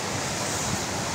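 Flowing water turning a water-powered wheel at Namche Bazaar in Solukhumbu, Nepal, a steady broad rush of water with no breaks, heard close with no speech.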